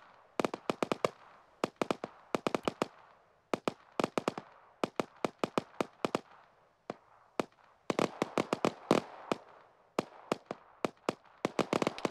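Repeated sharp reports from mortar rounds firing in a military video game, coming in quick clusters of bursts with short gaps between volleys, loud and crisp with no talking over them.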